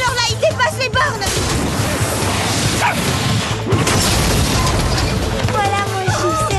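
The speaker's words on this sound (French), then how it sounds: "Un petit chien est en danger." A small cartoon dog gives short, high yapping barks near the start and again at the end, amid busy animated sound effects and mechanical clatter.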